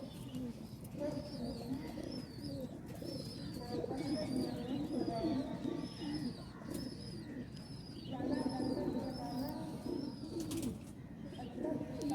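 Diamond pigeons coo in repeated soft, throaty phrases at moderate distance, layered over a steady background murmur with faint chirps between calls.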